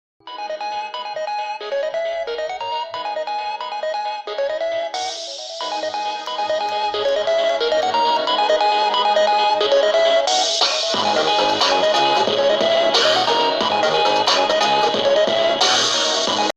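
A song plays on a portable Bluetooth speaker, a bright melodic track with a steady beat that builds to fuller, louder sections and carries on without any voices talking over it.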